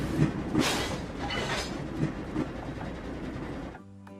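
A steady rumbling cartoon train with faint rhythmic clatter from the wheels, continuous and moderately loud, cutting off abruptly near the end.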